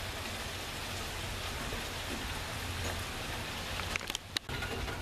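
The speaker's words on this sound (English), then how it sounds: "The rain continues to fall." Steady rain falls continuously as a dense, even hiss of drops on surfaces, fairly close, with a couple of brief sharper taps near the end and no voices.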